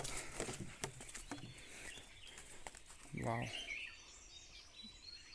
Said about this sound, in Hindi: चिड़ियों की चहचहाते आवाज़ सुन के माइंड रिफ्रेश हो जाता है